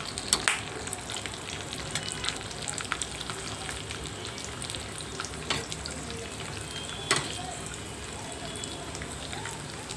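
Raisins fry in a pan for bread halwa, a steady soft sizzle with occasional scraping stirs and light clinks throughout, fairly quiet and close.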